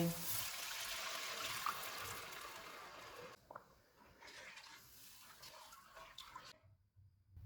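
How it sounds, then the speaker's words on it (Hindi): Half a litre of water runs and splashes steadily into a pot of fried spices for pakora curry, a broad hissing pour that thins out and stops near the end. "अब हम इसमें आधा लीटर पानी डालेंगे।"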